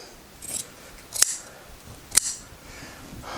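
Scissors snip through excess upholstery fabric on a handmade headboard, with two crisp, close cuts about a second apart and softer rustling around them in an otherwise quiet room.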